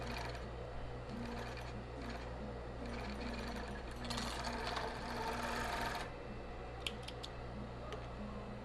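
A sewing machine runs steadily up close, finishing the seams inside a soft, wire-free nursing bra with no padding, its motor hum and rapid needle chatter continuous, with a brief louder burst near the middle and no talk.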